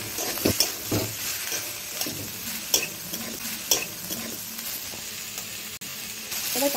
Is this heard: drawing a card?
no